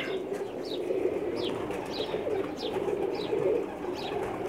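Pakistani pigeons coo in a repeated rhythmic sequence, six soft rising calls spaced about every two-thirds of a second over a steady low hum, close and moderately loud.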